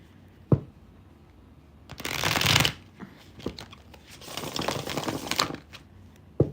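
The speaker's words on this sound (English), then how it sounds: "Let me shuffle this deck." A tarot card deck shuffled by hand in bursts of crisp riffling and flapping, close and fairly loud, with a couple of sharp taps between the shuffles and no talking.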